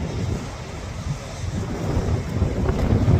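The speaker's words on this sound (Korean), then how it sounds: "바람이 많이 불어서 오 파도도 멋있어" Strong wind buffets the microphone at an empty beach while waves crash and surge in a constant, loud roar that builds slightly toward the end.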